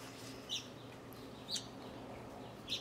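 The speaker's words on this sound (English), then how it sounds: "These birds are out to get these grapes." Birds near a bunch of grapes give three short, faint chirps spaced about a second apart over a quiet, steady background hiss.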